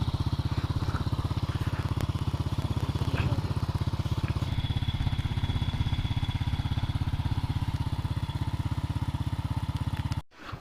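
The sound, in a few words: motorcycle engine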